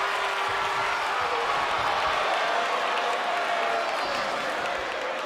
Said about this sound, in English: the crowd are saying, fight forever